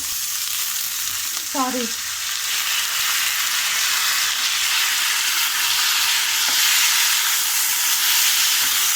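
Chana dal and moong dal sizzling in a hot pan, a loud continuous close hiss and crackle of frying throughout, with a brief scraping stir early on.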